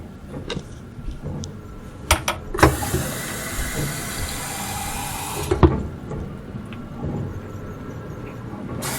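Tap water gushes loudly into a sink for about three seconds, then shuts off, with clicks and handling knocks around it and a quiet room afterward.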